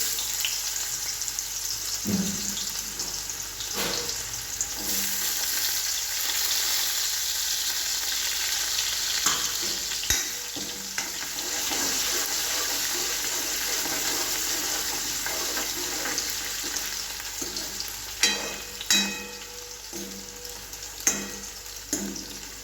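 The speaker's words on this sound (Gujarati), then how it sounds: "હવે હિંગ નાખ્યા બાદ આપણે આમાં ડુંગળી નાખશું" Onions frying with asafoetida in hot oil in a pan, a continuous sizzling hiss with occasional stirring clanks and scrapes, close and steady throughout.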